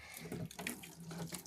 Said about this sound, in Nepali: हाम्रो आन्टीलाई यहाँ भाँडा धुल्न छ हेर्नुहोस्